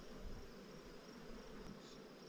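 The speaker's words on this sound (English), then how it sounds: "This bee right here is trying to get out." Honey bees drone steadily at an open beehive on a homestead, a faint, continuous buzzing hum with no speech.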